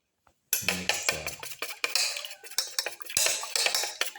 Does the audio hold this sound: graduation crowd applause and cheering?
no